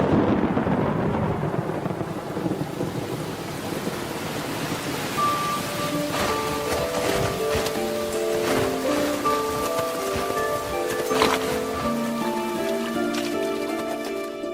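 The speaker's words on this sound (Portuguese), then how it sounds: "Outros relâmpagos. Mas desta vez eles trazem a chuva, a tanto esperada." Rain that finally follows lightning in the wild falls as a steady, broad hiss throughout, with sustained music tones entering and layering over it partway through.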